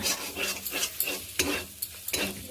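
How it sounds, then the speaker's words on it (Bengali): Egg is stirred into a sizzling spiced tadka in a pan, with rhythmic scraping strokes of a spatula repeating over a steady frying hiss, close and fairly quiet, with no talking. "এর ভেতরে আমি এবার দিয়ে দেবো ডিম"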